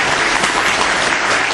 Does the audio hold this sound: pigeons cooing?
no